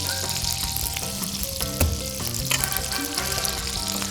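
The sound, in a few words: lobster frying in butter and oil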